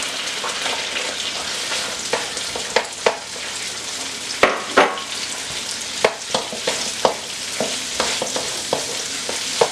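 Onions frying in vegetable oil in a pan for beef and broccoli, a loud close crackling sizzle with repeated sharp spatula scrapes and knocks scattered across it.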